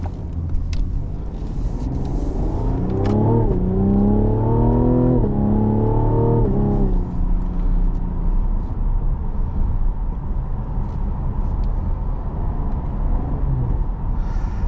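A 2021 Cadillac CT5 Premium Luxury with a 3.0L V6 accelerates hard, its engine note climbing through several rising sweeps broken by sharp upshift cracks, then settling into a steady cruising rumble from inside the cabin.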